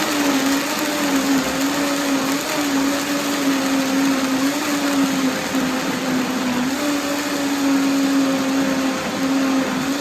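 A blender runs continuously at high speed making sea moss gel, a loud steady whirring drone with a slight wavering pitch and no pauses.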